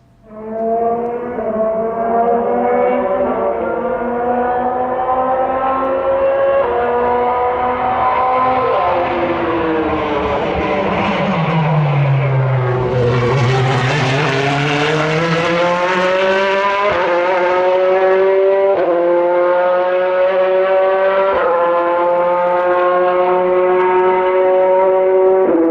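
A Chevrolet mid-engine Corvette C8R race car howls around a racetrack, its loud engine note rising and falling through gear changes, with a swooping pitch dip as it passes close by.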